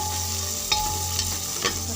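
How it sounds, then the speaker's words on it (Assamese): Chopped onions sizzle steadily in a hot pan with green chillies, close and fairly loud, as a spoon stirs them with three distinct scraping strokes over the constant frying hiss. "পিঁয়াজখিনি লৰাই দিছোঁ।"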